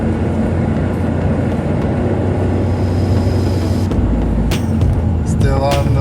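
A car with a small 1.6 liter engine revving high in third gear, a loud, steady engine and road drone filling the cabin, with a person talking over it.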